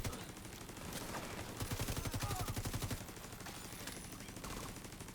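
Rapid bursts of automatic gunfire from a video game firefight, a dense rattling volley peaking midway and continuing at a lower level, with faint game voices underneath.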